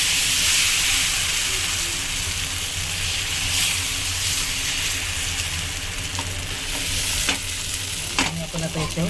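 Ghavne (amboli) batter sizzles and fries on a hot pan, a steady loud hiss with faint stirring and scraping sounds and a few clinks near the end.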